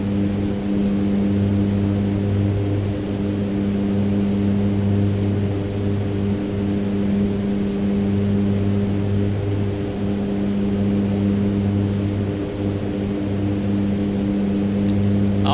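A Mitsubishi MU-2 B60 turboprop idling on the ground in a flight simulator, a steady loud drone with strong constant tones and no change in pitch, no voices over it.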